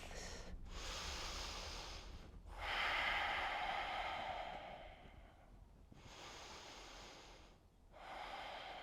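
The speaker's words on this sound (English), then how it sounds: "Deep, deep breath." Slow, deep yoga breaths during a vinyasa flow, long loud hissing inhales and exhales close to the microphone, separated by brief pauses.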